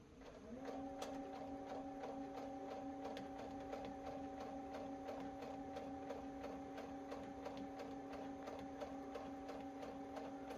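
A sewing machine runs steadily through fabric for stuffed bears, its motor humming evenly under a fast, regular ticking of the needle, close and continuous from start to finish.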